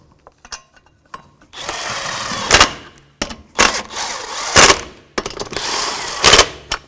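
A power tool, likely an impact driver, running down the lug nuts on a 2011-2014 Hyundai Sonata front wheel: several loud, whirring bursts, each ending in a sharp rattling hammer as the nut seats, separated by short pauses.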